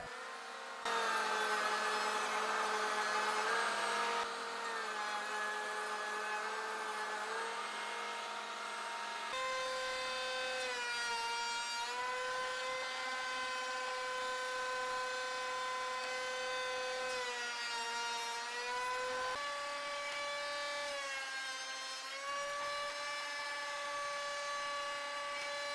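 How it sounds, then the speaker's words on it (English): A router with a tongue-and-groove bit cuts into a PVC cabinet door, a steady high whine that shifts pitch several times as it loads and unloads, moderately loud and alone. "Just using tongue and groove router bit set."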